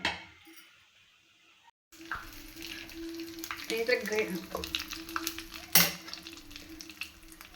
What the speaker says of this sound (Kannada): ಓಕೆ ಈಗ ಇದಕ್ಕೆ ಒಗ್ಗರಣೆ ಪ್ರಿಪೇರ್ ಮಾಡ್ಕೊಂಡ್ಬಿಡ್ತೀನಿ